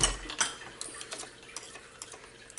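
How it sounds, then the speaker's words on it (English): Metal spoon scraping and clinking against a mixing bowl full of buttery chocolate cherry bar mix, faint, close, irregular light taps and scrapes with no talking. "scrape off our spoon"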